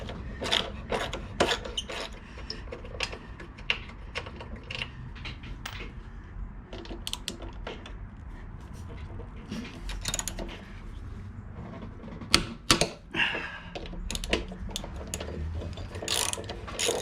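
Ratchet clicks from undoing the brake caliper bolts on a 1998 Suzuki GSF1200 Bandit motorcycle during a rear brake pad change, sharp repeated bursts of pawl clicking with pauses between, close and fairly loud, with no talk.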